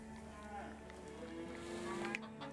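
Yaks lowing in a video game, several drawn-out, tonal moos overlapping one another at a steady, moderate level with no one talking.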